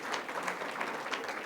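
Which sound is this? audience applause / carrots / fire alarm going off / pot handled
audience applause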